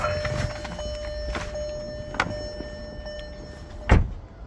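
A person steps out of a blue Kia Rio GT-Line 1.0 turbo automatic, with soft shuffling and interior creaks followed by a single solid car door thunk near the end, close and clear over a quiet background.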